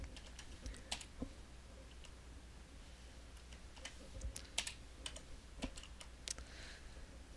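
Typing on a computer keyboard while editing the Windows 10 hosts file: quiet, irregular key clicks in short bursts, close up.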